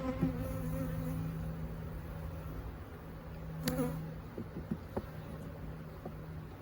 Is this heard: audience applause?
no